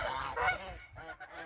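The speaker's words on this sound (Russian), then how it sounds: "Гуси гуляют." Geese honk loudly and close by in repeated overlapping calls as they wander around a farmyard in an Ingushetian village on a cold morning.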